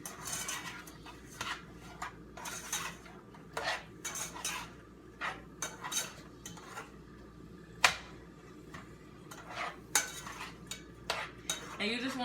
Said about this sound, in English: you just want to mix it around and just let the brown sugar do its work